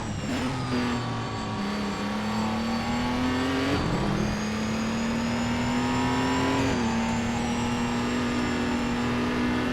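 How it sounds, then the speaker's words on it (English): Race car engine and gearbox whine in the video game Race Driver: Grid, a loud continuous drone with rising and falling pitch as gears shift, a brief dip near four seconds, steady throughout with no talk. "I hate having that gearbox noise right behind me."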